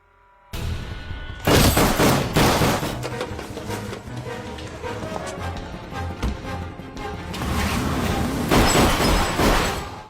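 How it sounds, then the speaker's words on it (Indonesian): Dense bursts of gunfire in an action movie shootout, with loud overlapping shots and booms in a sustained volley that swells again near the end. "Baku tembak pun tak terhindarkan."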